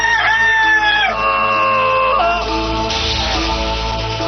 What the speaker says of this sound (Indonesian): Suruh ayam lu berhenti memperdengarkan suara yang fasik